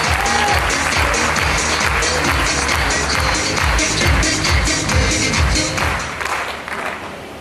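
An indoor audience gives a burst of loud, enthusiastic clapping for a presenter on stage, busy and close at first, then thinning and fading over the last couple of seconds.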